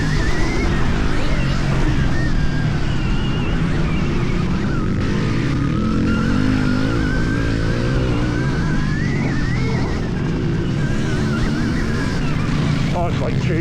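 A Stark Varg 80hp electric motorcycle ridden on a motocross track gives a continuous loud electric motor whine that rises and falls with throttle, wrapped in steady wind and tire roar throughout.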